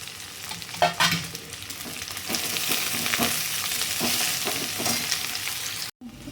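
Masala frying in a pan, a loud close sizzle with continuous scraping stirs, cutting off abruptly near the end.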